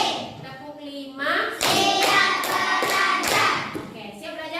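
Schoolchildren clap together in a counted classroom clap routine: a cluster of loud, crisp claps in quick succession, framed by children's chanting voices close by.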